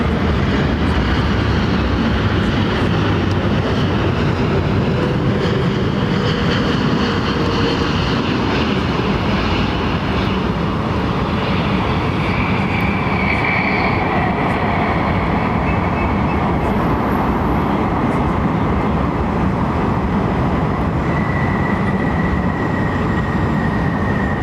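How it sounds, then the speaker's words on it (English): A Boeing Dreamliner at London Heathrow Airport gives off a loud, sustained jet roar with a whining tone that slowly shifts pitch, heard close and unbroken for over twenty seconds. "And here is a Dreamliner."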